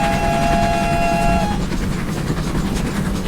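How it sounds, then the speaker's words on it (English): Two steam locomotive whistles in a train simulator game, a GWR 47XX Night Owl, sound together as a loud chord lasting about a second and a half, then cut off, leaving the rumble and clatter of the running locomotive. "You can play both whistles at the same time"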